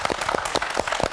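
A studio audience at a televised poetry lecture gives a short round of applause, a close, steady patter of many hands clapping throughout the moment.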